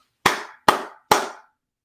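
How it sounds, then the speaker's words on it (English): Three sharp hand claps in an even rhythm, each with a short ringing room decay, close and clear, with silence before and after. "Let's clap our hands together 3 times."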